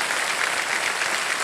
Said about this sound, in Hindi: ताली बजती रहेगी